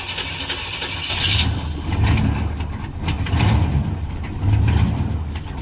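A 1991 Chevrolet Caprice engine starting and running rough after a tune-up, its idle surging and sagging in uneven pulses for several seconds before faltering.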